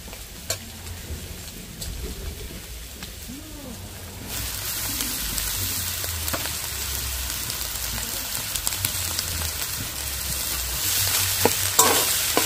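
Mashed boiled potatoes are stirred with spices in a pan, giving soft scraping and a gentle sizzle that becomes louder and steadier partway through, close by with no talking.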